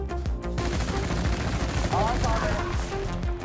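Sustained automatic gunfire from a rifle in Battlefield: Bad Company 2 rattles steadily and loudly throughout, a continuous stream of close shots under faint voices.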